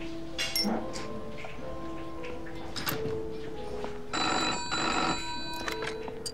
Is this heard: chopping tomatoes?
no